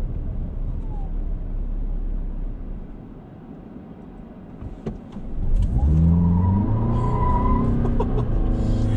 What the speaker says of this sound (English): I'm gonna do a brake torque here.